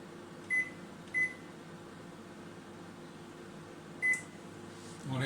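Steady hum of a microwave oven running while heating scrambled eggs in short bursts, with three brief electronic beeps punctuating the drone and a door or click near the end.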